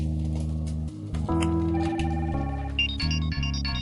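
A melodic telephone ringtone plays loudly and steadily for a few seconds, its repeating electronic notes stepping up and down in an office-style setting, with no talking over it.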